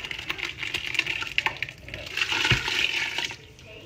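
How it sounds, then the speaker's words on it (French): Tomato sauce mixture poured over tender wild boar meat in a pan, a steady liquid pouring and splashing sound of about four seconds, close and moderately loud, with no talking. "Là maintenant on va pouvoir verser notre mélange dedans."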